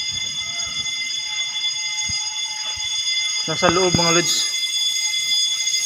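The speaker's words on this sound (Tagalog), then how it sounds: "nakalagay doon sa fire alarm is ano, battery fault" A building fire alarm with a battery fault sounds a steady high electronic tone throughout, while someone speaks briefly partway through, close to the microphone.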